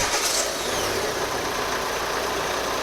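A Renault Laguna 2 with an F9Q diesel engine running roughly, heard as a steady, loud, close mechanical drone with no clear change in pitch throughout.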